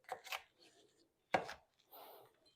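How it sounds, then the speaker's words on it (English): A knife chops cored jalapeños on a cutting board, with a few quick crisp strikes, a pause, then another firm chop and a softer scraping stroke, close and clear with no talk. "Let me chop them a little bit here."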